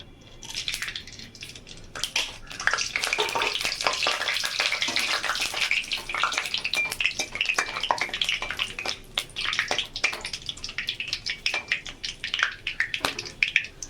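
Bay leaves and whole garam masala hit hot oil in a pan, giving a steady crackling sizzle with sharp spitting pops throughout, moderately loud and close.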